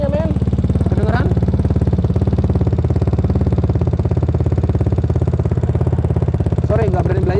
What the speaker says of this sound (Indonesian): bunyi dari motor ini. Remus.